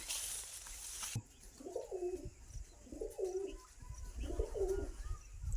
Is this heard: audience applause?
no